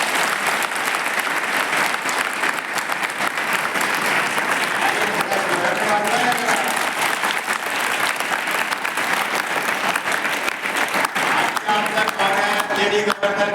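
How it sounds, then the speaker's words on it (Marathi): A school audience claps loudly in a long, dense, steady burst of many hands, filling the hall continuously, with some voices faintly mixed into the applause. "माझं भाषण आवडलं असेल तर जोरानं टाळ्या वाजवा"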